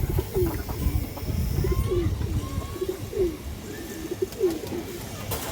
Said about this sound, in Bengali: অনেক সুন্দর একটা মাদি কবুতর, আফসান বাগা মাদি কবুতর।